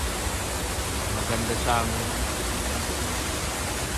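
A waterfall rushes in a steady, dense roar heard up close, with a person speaking briefly over it.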